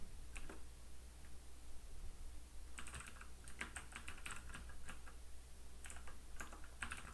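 Keys clatter on a computer keyboard while user details are entered during a DokuWiki self-hosted install, coming in short bursts of quick clicks separated by pauses over a low steady hum, with no talking.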